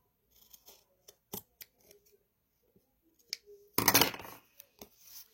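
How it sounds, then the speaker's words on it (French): Scissors cutting small pieces of paper for a handmade junk journal: scattered crisp snips in a quiet room, with one louder rustling cut partway through. "On retourne et on coupe les deux petits bouts."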